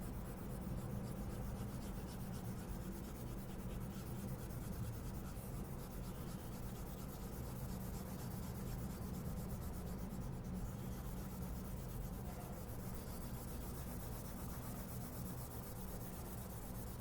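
An eraser rubs writing off a board during a lesson, making a steady, continuous scratchy swish that runs unbroken for the whole stretch at an even level, with no talking.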